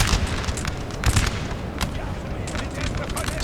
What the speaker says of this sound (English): And now my Prussian Fusiliers have opened fire.